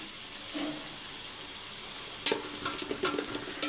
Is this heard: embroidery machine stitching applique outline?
no